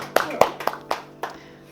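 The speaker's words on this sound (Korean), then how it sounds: "우리 주님 앞에 박수 올려드리겠습니다" Several distinct, sharp hand claps ring out in a church service, spaced irregularly and close by, fading over under two seconds.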